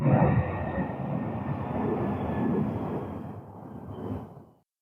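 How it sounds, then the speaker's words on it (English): A low-flying airplane passing near SeaTac airport, a broad roaring rumble that holds steady, then fades over several seconds and cuts off, fairly loud and heard alone. "I love being so close to SeaTac, but there's always low-flying planes going past."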